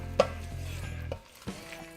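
Cold meat hits a hot pot of smoked tri tip chili with chipotle and adobo, a steady low sizzle and stirring scrape with a few sharp clanks of a utensil against the pot.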